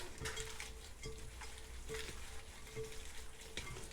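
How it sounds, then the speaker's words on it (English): Jerk barbecue king prawns are gently stirred, giving a close, wet, continuous churning with soft rhythmic squelches and faint clicks every second or so. "When you mix it up, guys, slowly mix it up"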